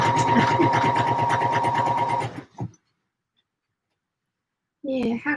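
A domestic sewing machine stitching a McCall's 7537 pattern runs steadily and close for about two seconds, then stops, with a brief burst after and a voice at the end.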